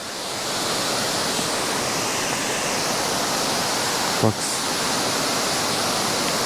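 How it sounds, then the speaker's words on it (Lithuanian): A small waterfall in Slovakia, running low, makes a steady broadband roar throughout, nearby and constant, with a brief voice and a short knock partway through. "O, atvažiavom Krioklio pažiūrėti."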